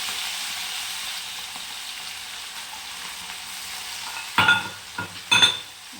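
A ground paste of green chilli, garlic and cumin frying in hot oil for Maharashtrian pithla: a steady soft sizzle, then a louder burst of crackling and spatter as it hits the pan, followed by a few stirring scrapes.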